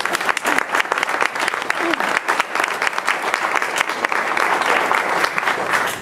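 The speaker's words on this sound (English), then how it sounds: "a round of applause for all of you who are living this story every day" Audience at a campaign kickoff event applauding, a dense, steady wash of many hands clapping close by, sustained for several seconds with a faint murmur of voices mixed in.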